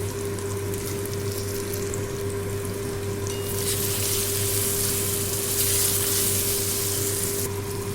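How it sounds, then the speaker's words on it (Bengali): Hot water poured into a pan of Bengali fish curry with fried potatoes and mustard paste, a steady rushing hiss that swells louder midway and stays close, with no talking. "দিয়ে দেবো এবারে গরম জল।"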